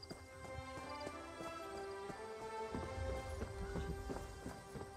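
A horse gallops in a video game, its hooves clip-clopping in a quick, steady rhythm that runs the whole time at moderate loudness, with no talk over it.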